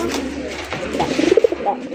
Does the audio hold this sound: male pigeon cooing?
yes